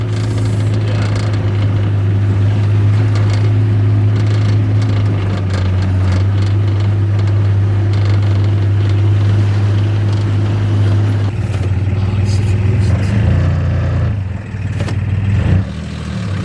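A Nissan Navara pickup engine running at Spurn Point, a loud steady low drone while driving, then shifting in pitch as it reverses with a dodgy reverse gear.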